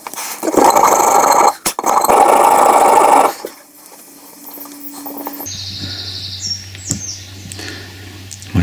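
A saw rasps loudly through a plastic rear wiper arm on an R50 Mini in two quick strokes of harsh, buzzy cutting, then stops, leaving quieter handling noises and a low hum.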